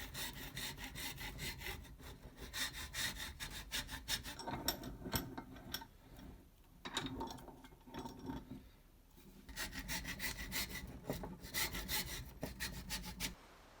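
A 400 kV high voltage module's epoxy potting is cut by hand, giving a close, gritty, rhythmic sawing rasp in repeated bursts of strokes with short pauses between them.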